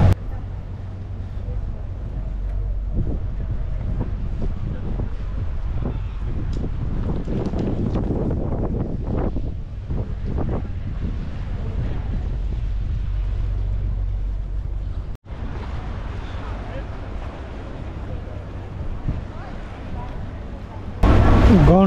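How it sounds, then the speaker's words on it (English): Steady low rumble of water taxi engines and lapping water on a canal in Venice, with wind buffeting the microphone and voices chatting nearby. "I think these are boat taxis."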